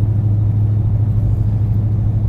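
A 1993 Ford Mustang Cobra with an aftermarket cam rumbles steadily while driving, a deep, even low-pitched drone held close and loud with no talk over it.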